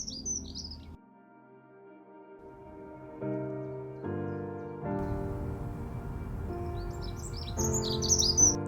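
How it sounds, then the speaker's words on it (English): A dunnock sings a brief high warbling phrase, faint and distant, over a steady low hum, along the Rhine River. "das ist eine Heckenbraunelle"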